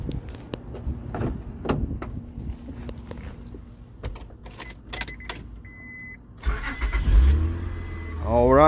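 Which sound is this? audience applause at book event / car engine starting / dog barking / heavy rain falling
car engine starting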